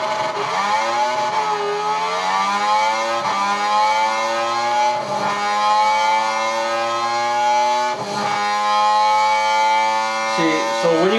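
A race car in Gran Turismo 6 accelerating hard on nitrous with flaps down, its engine note whining and climbing through repeated rising sweeps as it shifts gears, loud and close, with a voice talking over it.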